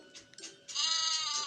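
Sheep in the Dog Simulator video game let out a short bleat and then a longer, loud, nasal bleating call as a dog eats them, the sound close and clear.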